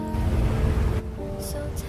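Steady rain pours in a GTA roleplay game scene, a dense broadband hiss like water drumming on surfaces, loud and continuous, easing slightly halfway through with faint higher tones above.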